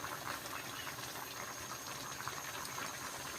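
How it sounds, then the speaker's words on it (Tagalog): A pot of pakbet Ilocano simmers at a boil, giving a quiet, steady bubbling and hiss with soft irregular pops, heard close up with no voices. "Yan, kumukulo na po."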